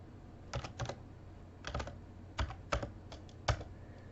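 Numbers being typed on a computer keyboard, a few quick bursts of key clicks with short pauses between, close and clear with no talking.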